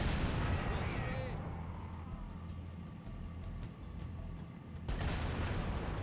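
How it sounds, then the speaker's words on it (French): Booming explosions and gunfire from combat in the video game Halo: Combat Evolved, a dense, loud rumble that holds steady before a fresh blast near the end, with a voice talking underneath. "Oh, par contre, les explosions."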